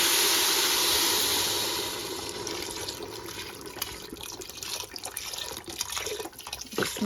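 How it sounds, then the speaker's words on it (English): Vegetable broth pours into a pot for red lentil soup, opening as a loud, steady liquid gush that tapers off after about two seconds into softer splashes and drips close by. "now let's go ahead and add our vegetable broth"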